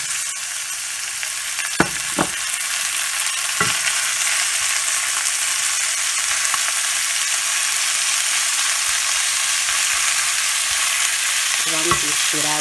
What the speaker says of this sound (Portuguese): Adicionamos a páprica e vamos deixar refogar ou fritar bem a carne.